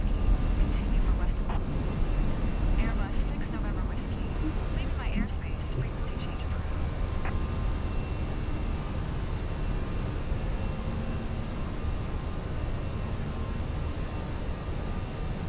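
Airbus A320 engines roar in a steady, unbroken wash during takeoff and climb in the MSFS 2024 flight simulator, with a voice talking over the continuous noise.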